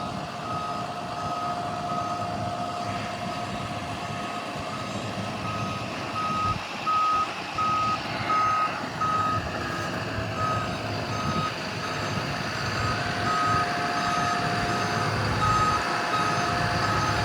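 A Ford F750 forestry bucket truck with a 6.7-liter Cummins diesel idles as its bed is raised, a regular warning beep repeating steadily over the low engine rumble and hydraulic whine, with no talking.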